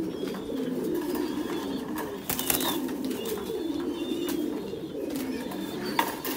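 Pigeons coo steadily in a farm loft, a dense overlapping murmur of soft throaty calls with occasional wing flaps and rustles, nearby and continuous.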